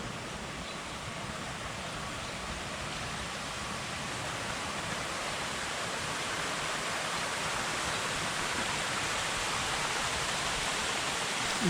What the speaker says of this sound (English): here's another view of that water feature